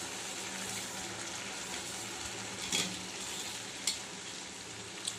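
Jaggery being stirred into cooked yellow pumpkin in a pot, a steady bubbling sizzle with soft scraping stirs throughout and a couple of brief knocks.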